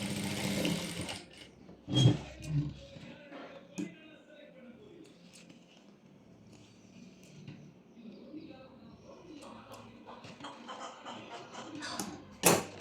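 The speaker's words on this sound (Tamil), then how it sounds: "இந்த எலாஸ்டிக் ஓவர்லேப் ஆகிற இடத்துல ஒரு 2-3 இடத்துல லாக் ஸ்டிச் போட்டுக்கோங்க" Sewing machine putting two or three lock stitches where the elastic overlaps on a palazzo pant waistband, heard as brief separate bursts of stitching with quiet pauses between them, close up.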